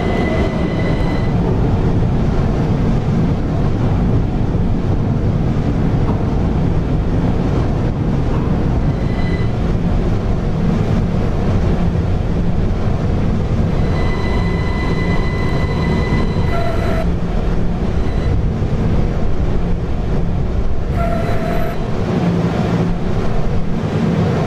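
New York subway cars, R211P, R211, R40 Slant and PST-5R, rumble loudly and continuously up close, with rail clatter, brief wheel squeals and tonal motor whines throughout.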